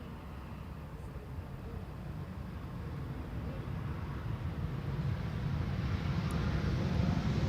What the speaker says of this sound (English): A350 going out, and an A350 coming in.